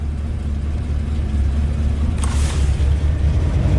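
A rebuilt Ford big block V8 running just after starting, a steady low rumbling idle with a brief hissing burst partway through, close and fairly loud with no talk.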